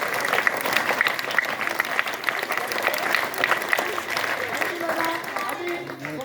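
Steady crowd applause from schoolchildren at a magic show in a school hall, continuous dense clapping with a few voices mixed in.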